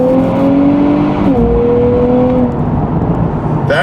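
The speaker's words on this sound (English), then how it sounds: "it did that automatic downshift for me with some burbles" A 2024 Nissan Z NISMO accelerates hard, its loud engine drone climbing in pitch, dipping at a quick shift, then rising again, heard close from inside the cabin.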